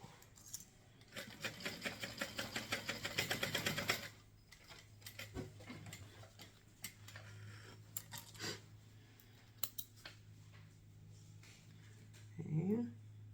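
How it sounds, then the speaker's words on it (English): Sewing machine stitching across the ends of a fabric purse strap: a rapid, steady run of needle clatter that stops after a few seconds, followed by scattered clicks and handling sounds with quiet talk. "Okay, so I'm just going to sew right across there."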